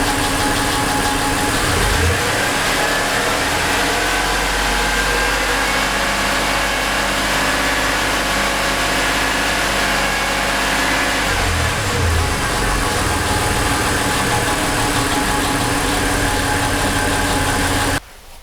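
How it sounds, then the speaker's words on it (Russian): A Mitsubishi Pajero 3 with a GDI engine held at about 2000 rpm, a steady, loud, close mechanical hum with a slight knocking undertone that runs unbroken before cutting off at the end. "подниму обороты до 2000, посмотрю, какое будет давление"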